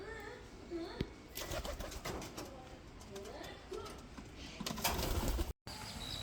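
Village pigeons coo softly among steady outdoor ambience, with a sharp knock near the start and people talking in the background throughout.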